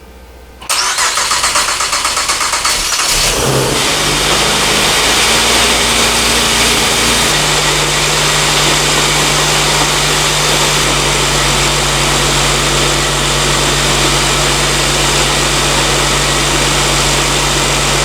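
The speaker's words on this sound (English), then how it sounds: "The car's running." A supercharged Acura TL engine cranks, catches and settles into a loud, steady idle close by, its drone running continuously with no talking.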